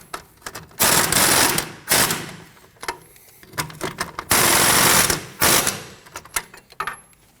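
A ratchet snugs down the strut nuts on a Ford Edge during front strut and spring replacement, coming in loud, rapid clicking bursts separated by short pauses and lighter ticks.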